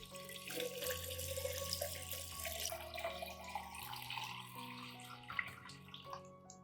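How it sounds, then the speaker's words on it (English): Clean room-temperature water is poured steadily into a plant fertilizer solution, a continuous trickling splash with faint ringing tones, heard alone and fairly quiet. "add 1 liter of clean water at room temperature to dilute the solution"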